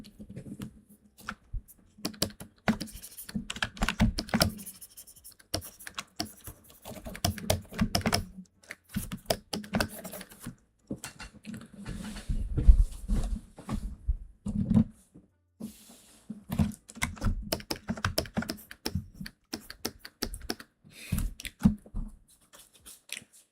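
Computer keyboard typing clatters in quick irregular bursts of key taps, fast runs broken by short pauses, close and fairly loud throughout.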